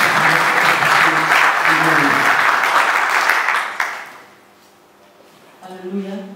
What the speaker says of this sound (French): Le pasteur Oum, acclamation s'il vous plaît.